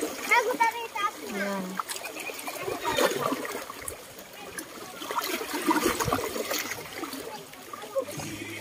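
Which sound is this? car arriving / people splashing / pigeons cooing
people splashing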